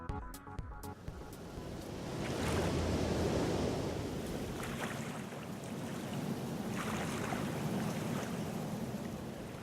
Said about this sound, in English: At first, the sound of waves is heard.